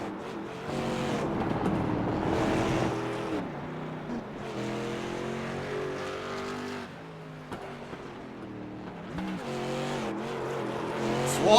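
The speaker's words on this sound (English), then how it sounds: "Swafford's just out getting some drift practice in while they wait to advance on to race 2" A street stock race car drifting at Road America between races, engine revving and dropping in waves with tire squeal woven through, fairly close and steady with no talk.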